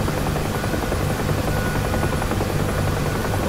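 A UH-1H Huey helicopter in the DCS flight simulator on the Nevada map gives a steady, loud rotor drone and turbine whine that holds without a break throughout.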